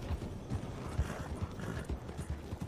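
Horse hooves clip-clop at a steady walking rhythm in the Red Dead Redemption video game, moderately quiet over a soft ambient background.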